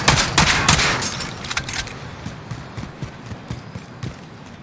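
Rapid bursts of Kar98 bolt-action rifle fire spammed in Call of Duty Warzone, a dense cluster of sharp shots at first that thins into scattered, fainter reports and clicks.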